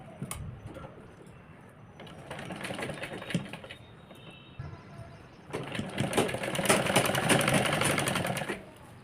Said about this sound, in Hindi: और इस पर पैर की सिलाई लगा लेंगे।